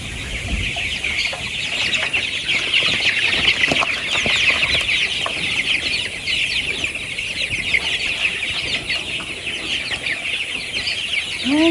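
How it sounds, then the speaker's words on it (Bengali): A crowd of farm chickens squabbling around a water pot, clucking and squawking together in a constant busy racket, close by, with sharper cries breaking through now and then. "একটা পটের কাছে কতগুলো মুরগি সব মারামারি শুরু করে দেবেন"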